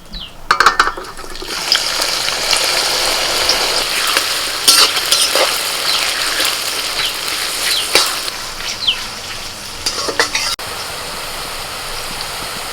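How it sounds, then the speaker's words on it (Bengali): Sliced onions deep-frying in oil as beresta, the crispy browned topping for chicken fry biryani, giving a loud, continuous crackling sizzle with occasional sharp spatters and stirring clinks. "এখন বেরেস্তাটা ভেজে নিই"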